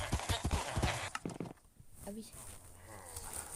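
Horse hooves clip-clopping in Minecraft, a few quick, close hoof beats early on, followed by fainter game sounds under a steady background.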